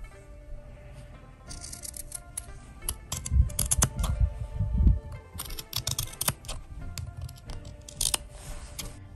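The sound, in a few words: scissors trimming fabric edges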